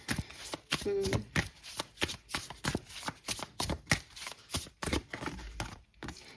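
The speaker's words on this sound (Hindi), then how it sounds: "मैं एक बार फिर से शफल कर रही हूँ जितने नहीं चाहिए" Tarot cards are shuffled up close in quick, rhythmic bursts, each riffle a crisp papery flutter repeating steadily for several seconds.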